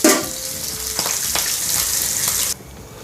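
Fish curry sizzling and frying in oil in a pan, a steady close hiss with a few soft stirring knocks, the sizzle dropping quieter near the end.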